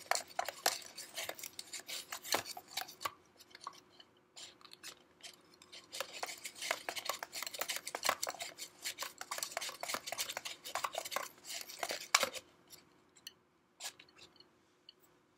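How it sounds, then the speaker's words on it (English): Ice cubes being stirred in water in a container during a chemistry lab, a rapid run of close clinks, rattles and scraping taps that stops briefly near the end. "hopefully that'll melt a little bit as I stir it"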